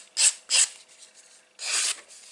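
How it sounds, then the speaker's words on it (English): Three short raspy scraping strokes of a nail file rubbing along paper edges, two quick ones then a longer pass, close and fairly loud with no talking. "I just keep an old or cheap nail file"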